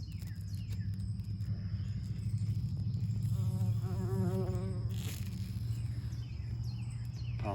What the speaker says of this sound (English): Looks like we've got a bee in there.